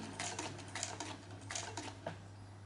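A sewing machine stitches through leather in quick, faint clattering bursts, a few short runs of rapid ticking under a steady low hum.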